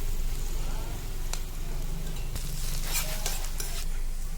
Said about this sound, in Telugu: ఇది క్యాప్సికమ్ వేస్తున్నాను. కొంచెం వేగాలి క్యాప్సికమ్.